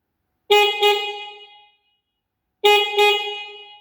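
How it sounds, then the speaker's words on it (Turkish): Two separate double honks from a loud Dualtron Popular 52-volt electric scooter horn, each a pair of bright, harmonic toots that ring briefly before fading, with a short silence between them. "Kornasını çalacağım."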